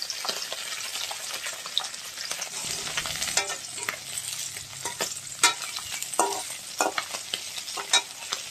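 Fish frying in a home kitchen pan, with a steady sizzle and crackle under frequent stirring and scraping, plus a brief trickle of running water partway through; no one speaks.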